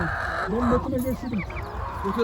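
Chickens cluck and squawk up close at a busy poultry market in Ankara, a dense overlapping chorus of fowl calls with voices mingling in the background.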